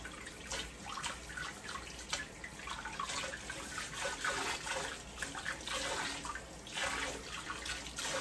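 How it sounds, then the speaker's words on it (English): A kitchen sink sprayer rinses parts of a Weston meat cuber and tenderizer used for venison cube steak: a steady, close rush of running water with splashing, and no one speaking. "The sprayer works good."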